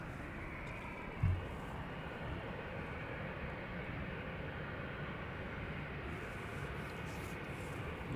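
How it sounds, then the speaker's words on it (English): A KLM Boeing 737 on approach to the runway at Amsterdam Schiphol gives off a steady, broad roar of jet noise. The sound holds at an even level throughout, with one short thump near the start. "Meanwhile, the next 737 is approaching the runway."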